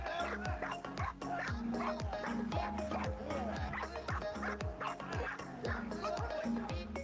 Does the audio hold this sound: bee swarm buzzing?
no